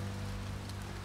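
Steady, even rain hisses in a video game, a continuous close wash of falling drops with no voices over it.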